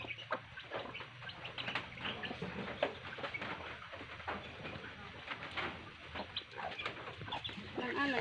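Fighting roosters clucking and calling close by, with repeated short bird sounds and some rustling in an outdoor setting.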